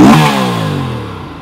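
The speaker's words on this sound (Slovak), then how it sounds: "Ale počujeme, že troška je do toho výfuku poprtka," An Aprilia RS 457 motorcycle engine blips loudly and close, then decays, with a faint crackling from the exhaust as the revs fall away.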